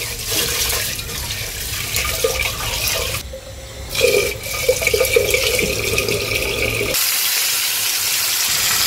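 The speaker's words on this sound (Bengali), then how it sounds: "তো চালটা আমি এখন ধুয়ে নিব।" Rice being washed with water in a home kitchen during everyday Bangladeshi lunch cooking; steady splashing and running-water noise throughout, with a brief drop around the third second and a quieter stretch near the end.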